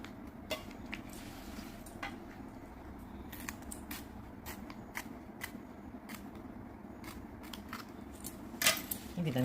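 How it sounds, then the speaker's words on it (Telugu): Scissors snip a piece of banana leaf for a simple backdrop decoration: a series of light, crisp cuts spread over a steady low room hum, with a louder rustling crunch near the end. "సో అరిటాక్ తీసుకుని ఈ విధంగా మనం ఒక చిన్న పీస్ ఇలా కట్ చేసుకోవాలి"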